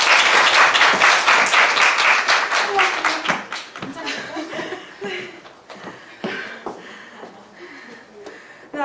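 An online Zoom meeting audience breaks into loud clapping and applause mixed with chuckles and laughter, the clapping gradually thinning out into scattered claps, with some talk underneath.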